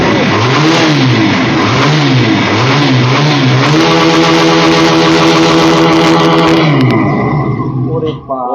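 A 2024 Pilder v3 motorcycle, called the biggest and longest bike in Bangladesh, revs loudly up and down in surges. It then holds a steady high-pitched drone and drops away at the end.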